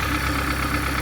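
A 2008 Hyundai Santro Xing engine idles steadily, a short even mechanical hum with a faint knocking texture, close and unbroken, no voices.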